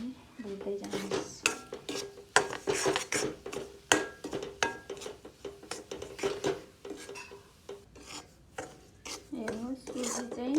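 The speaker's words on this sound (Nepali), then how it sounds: "सुजी पनि भुट्दै जानुहोस्" Semolina is roasted over high flame in a pan with sugar cooking nearby, heard as repeated sharp scraping and clinks of a spoon against the metal pan in an uneven rhythm, close and fairly loud, with brief voices between strokes.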